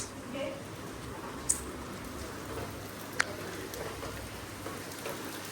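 Steady rain falling outdoors in Goa, a soft continuous wash of drops with a couple of sharp nearby taps, fairly faint throughout.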